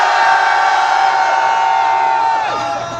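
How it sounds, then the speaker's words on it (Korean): Protesters at a rally facing the Japanese embassy let out a loud, sustained collective shout lasting a few seconds, then fade out at the end. "좀 더 크게 다시 한번 함성 5초간 발사 시작!"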